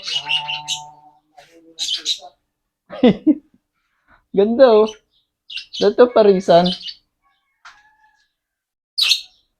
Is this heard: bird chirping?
yes